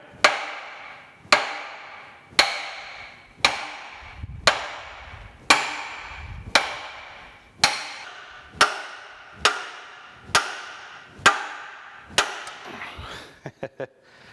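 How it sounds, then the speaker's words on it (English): About a dozen heavy, dull lead-hammer blows drive a steel part into a radial drill's table at a steady pace of roughly one per second, close by, ending with a few quick lighter taps. "I'm using a lead hammer here that won't mushroom the end of this."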